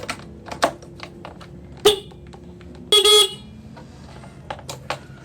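Horn test on a used Yamaha Xeon GT125 motorcycle: two short honks, a brief one and then a longer one of about a third of a second, come up close among light clicks and taps.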